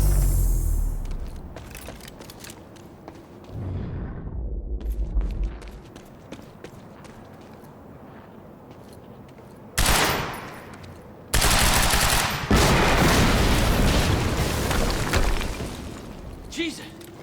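Gunfire and explosions in the video game Quantum Break, with rattling bursts of automatic fire and a heavy blast, loud and intermittent, mixed with game dialogue and movement noise.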